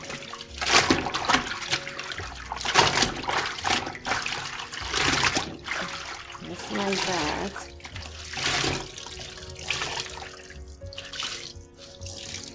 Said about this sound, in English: now we are just going to rinse our clothes.